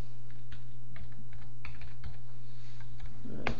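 Quick, fairly close clicking of a computer keyboard as a folder name is typed, with steady keystrokes over a low constant electrical hum.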